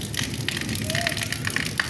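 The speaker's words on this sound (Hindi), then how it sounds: "देखो भाई फुल बारिश हो रही है" Heavy monsoon rain in Hisar, a dense, even hiss of patter with scattered sharper drops, close and steady throughout the short stretch.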